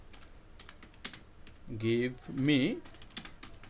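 Close computer keyboard typing as a prompt is entered into ChatGPT, a run of light key clicks with a voice speaking briefly over the middle.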